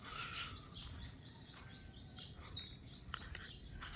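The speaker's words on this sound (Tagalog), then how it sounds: "ang daming ibon na kumakanta" Many birds sing at once in trees near a farm, with dense overlapping chirps and repeated rising trills filling the whole clip over a steady background hum.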